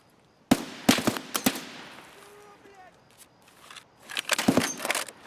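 Distant gunfire in Escape from Tarkov on the Woods map: a quick cluster of sharp cracks, a lull, then a second, denser volley of far-off shots.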